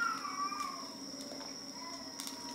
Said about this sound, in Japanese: 猫が発情してます。